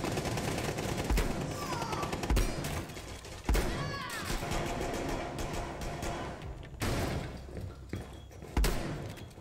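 Shotgun fire in the video game Rainbow Six Siege sounds as several heavy, booming blasts spaced seconds apart, over a busy bed of in-game noise and occasional voices.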